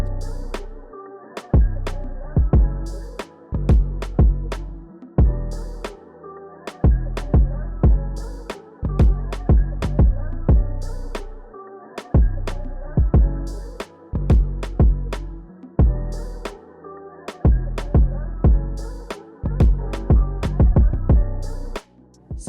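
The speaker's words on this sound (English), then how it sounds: "After that, I added in the 808. This is the pattern I have for that." A repeating beat with deep sliding 808 bass notes pulsing under the drums, steady and loud with short gaps between phrases.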